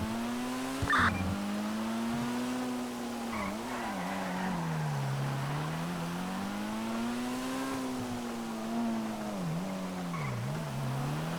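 Video game car chase in Yakuza: a car engine drones and wavers in pitch with rising and falling revs, punctuated by short tire squeals, steady and fairly close throughout.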